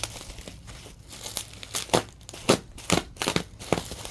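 Packing tape on a Dyson DC17 vacuum cleaner box is cut and pulled in a quick series of close crinkling, tearing strokes, uneven in rhythm and fairly quiet, with no talking.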